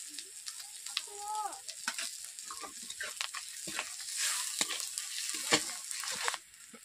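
Chili and turmeric powder fry in a pan for a homestyle rui fish and pointed gourd curry, a soft continuous sizzle with occasional stirring scrapes, quiet and close.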